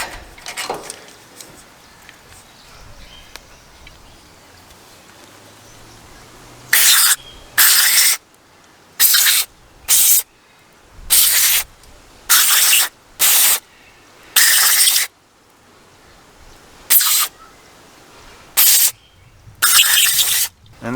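Carburetor cleaner hisses from an aerosol can onto a petrol generator's carburetor in a dozen short, loud, close bursts of varying length, over a faint background rumble.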